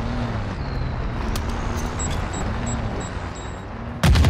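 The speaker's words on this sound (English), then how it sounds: "I hear another car." A car engine drones steadily nearby in the video game Call of Duty: Modern Warfare II, with faint beeping in the background and a sudden loud burst near the end.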